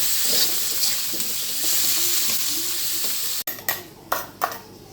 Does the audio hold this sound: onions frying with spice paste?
yes